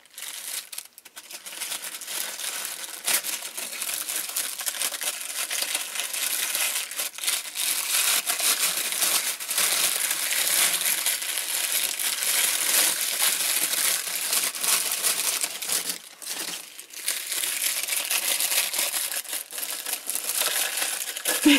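Paper wrapping on a parcel holding a panda mug crinkles and tears almost nonstop, close and fairly loud, with dense rustling and a few short pauses as it is unwrapped by hand.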